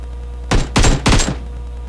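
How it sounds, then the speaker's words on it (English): Gunfire in the mobile game PUBG Mobile: three loud, sharp bursts of shots in quick succession, close and punchy, with short gaps between them and no talking. "Somebody shooting at me."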